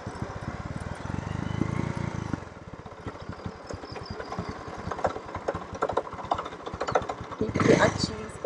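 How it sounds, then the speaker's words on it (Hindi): A motorbike engine idles and runs with a rapid, steady clicking knock, a kat-kat rattle under the engine note, with someone speaking over it and a louder burst near the end. "क्या चीज़ कट कट बोल रही है बाइक में।"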